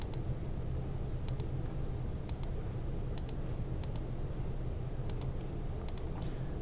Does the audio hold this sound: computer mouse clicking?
yes